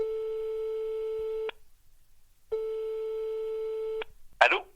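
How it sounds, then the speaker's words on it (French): A telephone ringback tone sounds while a call is placed: two long steady beeps separated by a pause, clear and fairly close, with a brief noise at the end. "J'appelle désormais au téléphone Monsieur Régis Senet"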